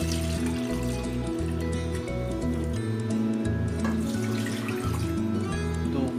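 Water pours steadily into a cooking pot over a medium flame while making dinengdeng, a continuous close splashing stream with a shifting tonal hum underneath.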